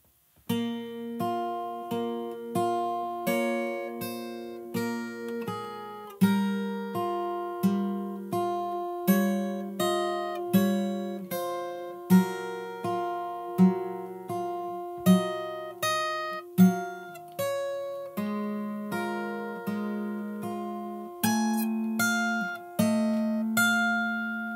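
Fingerstyle acoustic guitar plays a song's melody, clear plucked notes over low bass strings in a steady rhythm, with occasional stronger accents, heard alone and close.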